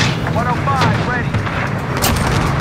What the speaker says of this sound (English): Okay, Axel. Send that air support.